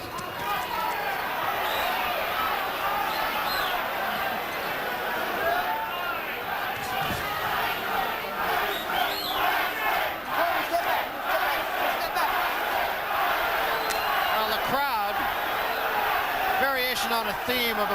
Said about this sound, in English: they are yelling Tyson, Tyson